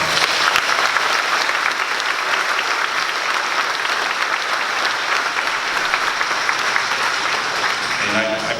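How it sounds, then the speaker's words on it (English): Sustained audience applause fills a commencement ceremony for Kenner Collegiate's 2022 graduation, steady and dense throughout with a faint voice near the end. "Please give her a round of applause."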